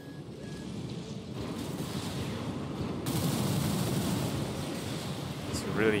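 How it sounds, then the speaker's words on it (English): Missiles are fired in a steady barrage in Armored Core 6, a dense rumbling stream of launches and blasts that swells in the second half, with someone talking over it. "Really just a lot of spamming missiles"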